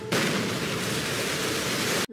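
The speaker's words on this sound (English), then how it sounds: "The big explosion." A loud, sustained blast of broadband noise, a big explosion in Godzilla Minus One roaring for about two seconds before cutting off abruptly.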